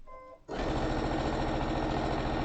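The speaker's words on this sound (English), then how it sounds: "Stitch all the way around using just edge of foot." A sewing machine stitches around the edge of a fabric Easter egg holder, starting after a brief pause and then running loud and steady with a fast, even mechanical whir.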